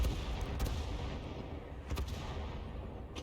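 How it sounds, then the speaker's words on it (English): Muffled cannon fire and explosion rumble from a World of Tanks match around a T-50-2 light tank with a 57mm gun on the Malinovka map, dense low booms over a constant battle noise bed. "he just fired into the side of one of his own teammates, the Type 64"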